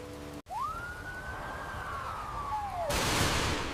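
A siren wails with a long rising and falling tone, steady and fairly close, over a rumbling background that swells louder toward the end.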